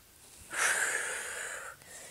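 A long, steady exhale during a stretching workout, rising sharply and holding for about a second before fading, close and clear with no talking.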